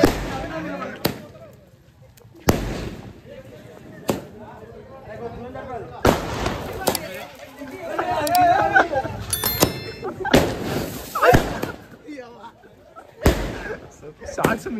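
Firecrackers burst at a village Dasara festival celebration, several sharp loud bangs spaced irregularly across the clip, with crackling between them and people talking throughout.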